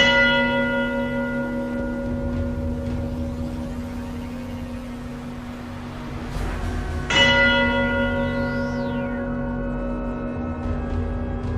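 Large bells chime loudly with long ringing overtones, one strike decaying and a second strong strike arriving midway, over low rumbling background noise.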